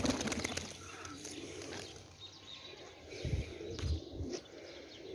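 Firozpuri pigeons coo softly in a loft, low murmuring calls rising twice near the end amid faint chirps, wing flutters and distant ambient noise.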